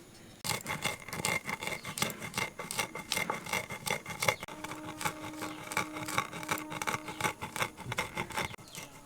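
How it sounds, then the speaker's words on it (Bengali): Soaked sabudana and peanuts ground slowly by hand on a stone grinding slab, a steady rhythm of rasping, scraping strokes repeating about every half second at close range, without any talking. "সিলে সাবুদানা বাটার সময় কিন্তু এরকম আমার মতো আস্তে আস্তে বাটতে হবে"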